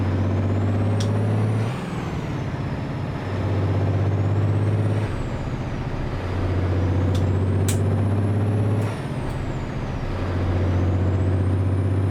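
Heavy truck in American Truck Simulator on a frosty winter road, engine droning low and loud with repeated hissing air-brake releases and a few sharp clicks, no talking.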